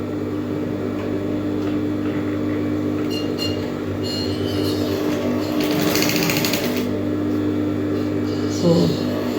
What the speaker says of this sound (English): I'm going to sew 1/2 inch from the top